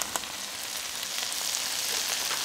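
Cauliflower sizzling in melted butter and cream cheese in a hot pan, a steady bright crackle and hiss with small pops, close and continuous, with no voices.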